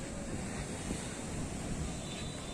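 Rough high-tide sea waves at Digha surge over the guard wall in a continuous loud roar and wash, mixed with wind buffeting the microphone and no voices.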